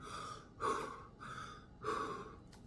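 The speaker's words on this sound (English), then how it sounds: "We breathe in and out very vigorously 30 times" Vigorous Wim Hof method breathing: deep, forceful breaths in and out alternate in a steady rhythm, up close and without talk.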